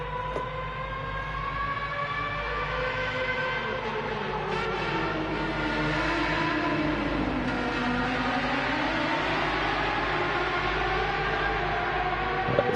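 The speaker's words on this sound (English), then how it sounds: "It sounds like a V8 on that one. On the new Formula 1 car." V8 engine of the new Formula 1 car in the video game Gran Turismo 7, a sustained whining engine tone that sweeps down and back up in pitch, steady and moderately loud with no speech.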